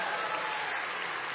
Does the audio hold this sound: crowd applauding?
yes